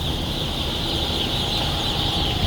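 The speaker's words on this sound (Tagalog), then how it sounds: "Babae ni siya nga manok." Chickens on a chicken farm fill the air with a dense, continuous chorus of clucking and calls, steady and fairly close throughout.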